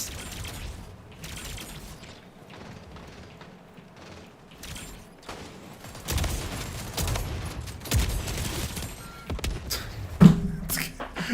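Rapid shotgun blasts and clattering weapon handling in a fast first-person shooter game, dense bursts of gunfire that grow louder toward the end, with no clear talk.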